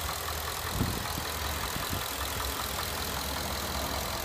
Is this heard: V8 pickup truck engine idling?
yes